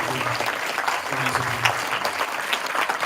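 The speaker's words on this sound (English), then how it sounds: "Applause. Let's do this one more time." A stand-up comedy audience claps, with thick, continuous applause filling the room and a few voices faintly mixed in beneath it.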